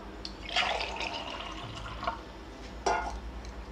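Half a glass of water is poured into a potato and radish curry, giving a few soft splashing drips and trickles up close.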